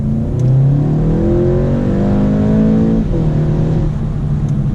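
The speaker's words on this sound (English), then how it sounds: "full gas second gear, you know, you barely get a bit of wheel spin in dry conditions" 2018 Volkswagen Golf GTI DSG MK7.5 pulling hard at full throttle in second gear, engine note climbing steadily in pitch, a quick shift dip, then pulling again; loud and close from inside the cabin.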